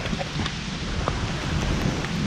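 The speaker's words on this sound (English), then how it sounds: "Pretty good storm for sure." Heavy rain pours down during a storm at an outdoor construction site, a dense, even hiss with scattered louder drops close by and no talking.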